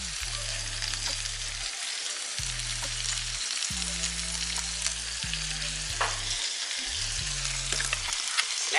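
Brussels sprouts and bacon in a pan, a steady loud sizzle and crackle of frying with the scrape and clatter of stirring running throughout.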